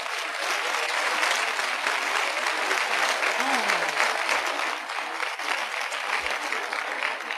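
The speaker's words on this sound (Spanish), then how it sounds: "no hay nada más bonito que los aplausos" Sustained applause from an audience, a dense, even wash of many hands clapping that holds steady throughout.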